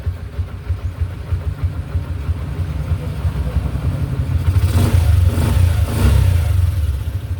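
A Bajaj CT 100 motorcycle engine with weak pull and a stalling problem runs close by, idling unevenly and then revving up in a couple of surges before settling back.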